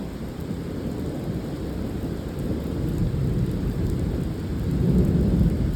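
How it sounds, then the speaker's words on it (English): Deep rolling thunder rumbles through a severe thunderstorm with rain, a continuous low roar that swells louder toward the end with steady rainfall underneath. "That'll be some good thunder."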